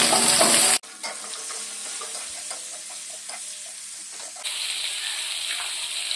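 Sliced onions dropped into hot oil with cardamom and cinnamon for a chicken curry. A sharp hiss bursts out, then a steady close sizzle with light stirring scrapes, and the frying swells louder near the end.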